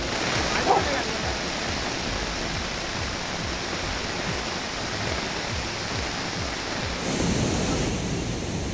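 Overflowing stream water rushes across the Balehonnur–Kalasa road in rainy Karnataka, a constant broadband roar of flowing water with no pauses.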